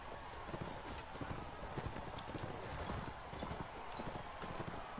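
In a video game, a horse's hooves clip-clop in a steady rapid rhythm over a constant background bed, fairly faint and continuous throughout.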